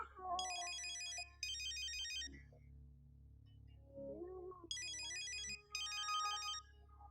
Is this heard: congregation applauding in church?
no